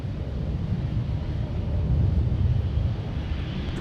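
Delta Air Lines Airbus A350-900 heavy jet departing Minneapolis–Saint Paul airport, a steady low roar of engine thrust that swells slightly and holds throughout, with some wind rumble over the microphone.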